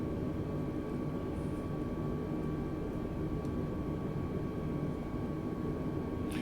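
A simulated airplane landing under AI co-pilot control in Microsoft Flight Simulator makes a steady, unbroken engine drone with a faint whine on top, constant in loudness throughout, with no talk.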